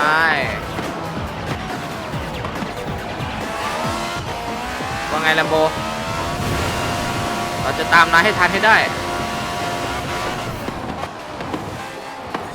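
BMW i8 hybrid supercar racing in Forza Horizon 4, its engine revving high with rising and falling pitch through gear changes, tire squeals and bursts of effects, while someone talks over it.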